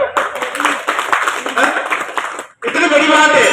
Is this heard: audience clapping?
yes